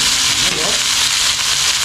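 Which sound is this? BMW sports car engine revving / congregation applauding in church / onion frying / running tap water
onion frying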